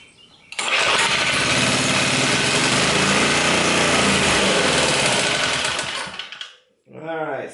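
A 1970s Sears generator's small engine catches and runs loudly for about six seconds with a buzzing, mower-like drone, then dies away; a voice speaks briefly at the end.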